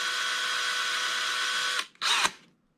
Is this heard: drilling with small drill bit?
yes